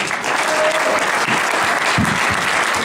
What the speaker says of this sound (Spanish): dense un buen aplauso